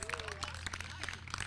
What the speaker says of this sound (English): let's give a real round of applause for our kids